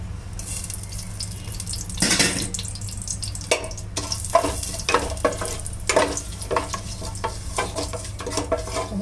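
Whole cumin, cardamom, cinnamon, cloves and a bay leaf frying in hot oil for a pulao, a steady loud sizzle broken by sharp crackles and the scrape of stirring, with a running-tap wash underneath.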